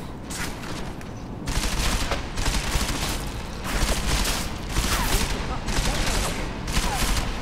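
Rapid enemy gunfire in the Deus Ex: Mankind Divided video game, with several bursts of automatic shots going off one after another at moderate loudness and a short lull between bursts.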